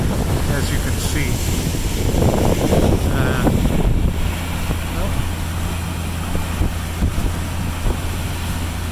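A cruising boat on Lake Huron on a calm evening, its engine giving a steady low drone at about 8.5 knots, with constant wind and water rush over the microphone and a brief voice early on.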